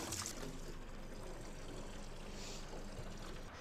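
A garden hose fills a 1955 row boat with water, making a faint, steady splashing hiss that runs without a break and has no voices over it.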